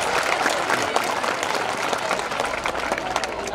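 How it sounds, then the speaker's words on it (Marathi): A school audience at a primary school prize ceremony in Kannad claps loudly and steadily throughout, a dense, sustained wash of applause filling the hall. "प्रत्येकाने जोरात टाळ्या वाजवायच्या आहेत."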